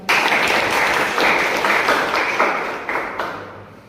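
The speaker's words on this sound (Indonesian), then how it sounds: "Oke, berikan aplaus." Audience of children applauds during a classroom lesson, a dense, steady burst of clapping that starts abruptly and thins out toward the end.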